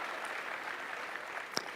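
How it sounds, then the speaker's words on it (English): Applause from the audience at a national launch event in Kenya as a panelist walks up, a steady wash of clapping heard at moderate distance with no talk over it. "Let's give him a round of applause as he makes his way up."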